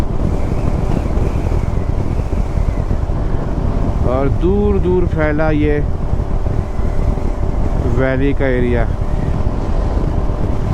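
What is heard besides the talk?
strong wind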